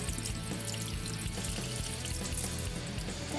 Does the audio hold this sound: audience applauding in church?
no